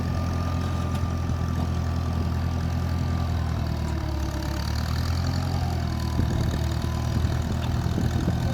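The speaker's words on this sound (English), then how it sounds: "Put my four-wheel in. Start it up." A four-wheeler ATV engine idles steadily and close by, with a low, even rumble and a slight knocking texture that continues unbroken throughout. No distinct startup is heard, and no voices are present.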